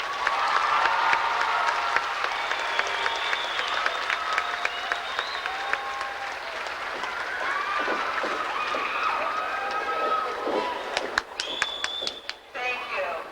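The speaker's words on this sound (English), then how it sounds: "Let's give them a round of applause." Audience applause for the band and chorus at a 1994 graduation ceremony, a sustained wash of clapping from a large crowd lasting throughout and tapering near the end.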